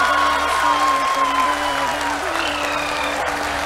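A crowd claps steadily during the Chandrayaan 3 lunar landing, with continuous applause running beneath a sustained electronic tone and faint background talk throughout.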